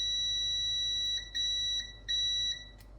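A continuity tester probing a phone battery connector pin gives out sharp, piercing electronic beeps, a continuous tone that breaks into short stuttering pulses near the end over a quiet background.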